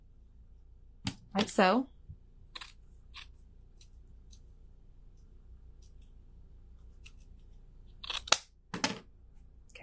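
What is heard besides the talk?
scissors cutting ribbon for bows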